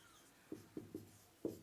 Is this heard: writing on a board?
yes